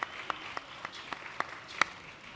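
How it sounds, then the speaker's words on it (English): A small audience gives a sparse round of applause at a US Open draw show, with a handful of separate, fairly faint claps spaced out over a couple of seconds and one sharper clap near the end. "Give yourselves a round of applause for coming out and supporting this great game of tennis."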